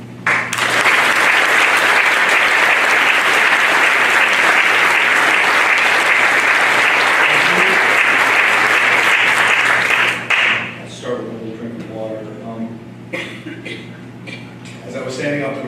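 An audience applauds loudly and steadily to welcome a University of Virginia lecturer, a dense wall of clapping that stops abruptly and gives way to someone speaking.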